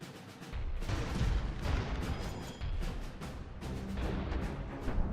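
Airships in the strategy game Airships: The Magnificent Empire fire their weapons, giving a dense, continuous rumble of booming cannon shots and crackling gunfire that overlap throughout.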